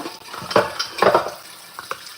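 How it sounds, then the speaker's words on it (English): Dishes are washed under a running kitchen tap, with water splashing and clinking bursts coming in uneven surges over a couple of seconds, close by and moderately loud. "I hate doing dishes so much."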